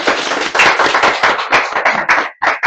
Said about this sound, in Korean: 지금, 박수를 한번 하겠습니다.